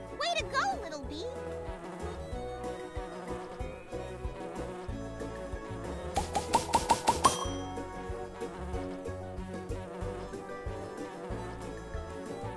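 Cartoon bee buzzing in the Nature Cat: Pollinator Pathway game, a wavering insect drone over playful game music with tinkling chimes and a bright jingly flourish midway.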